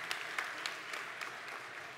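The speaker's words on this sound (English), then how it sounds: "let's give the Lord a good round of applause" A church congregation at an Easter Sunday service gives a round of applause, a soft, fairly distant patter of many hands clapping evenly throughout.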